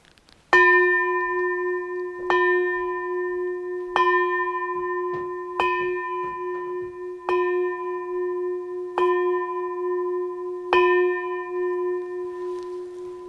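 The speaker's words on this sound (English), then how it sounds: "we end the Global Family Chat by ringing the bell of" A single bell rung to close a family chat, seven clear metallic strikes spaced about every two seconds, each ringing out with a long shimmering decay, near and alone.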